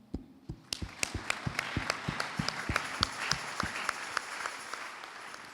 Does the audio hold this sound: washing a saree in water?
no